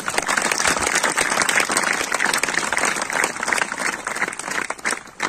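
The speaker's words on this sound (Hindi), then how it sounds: "ऐसे उधारी वाली ताली बजाते हो" A congregation at a Christian sermon gathering claps loudly and continuously, a dense patter of many hands that stays strong throughout.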